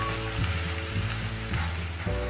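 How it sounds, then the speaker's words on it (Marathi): Masala spices sautéed in hot oil for a Maharashtrian maswadi curry, giving a steady close sizzle with soft stirring scrapes throughout. "आपला तेल सुटेपर्यंत आपल्याला मसाला परतवायचा आहे."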